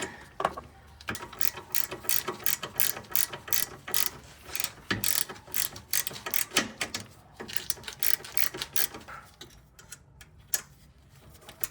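Close, crisp ratcheting with a 14 mm socket as a nut is run down on a rear sway bar link of an Acura RSX Type S, the clicks coming in fast, steady strokes broken by brief pauses.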